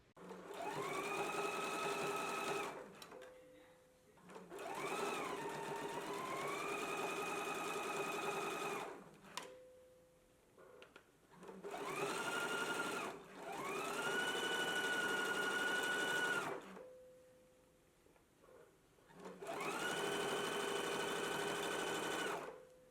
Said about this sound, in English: we're going to do understitching really close to this seam